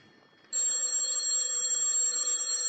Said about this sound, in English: Telephone's ringing, Danny.